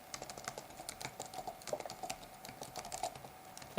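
Steady close typing on a computer keyboard while entering Python code, quick even keystrokes with no pauses and no talking.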